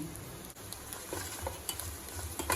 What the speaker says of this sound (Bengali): এবার ভালো করে নাড়াচাড়া করে নেব মশলাগুলো একটু ভাজা হয়ে গেলে